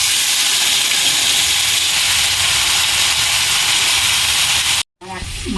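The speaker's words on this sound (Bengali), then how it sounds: "আমার মাছটা আমি দিয়ে দেবো।" Lote (Bombay duck) fish sizzles loudly in hot oil with black cumin seeds, a steady dense hiss and spatter that fills the clip before cutting off abruptly near the end and resuming briefly.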